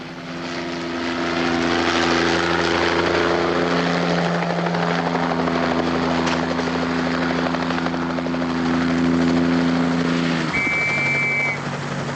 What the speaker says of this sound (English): Listen, the chopper.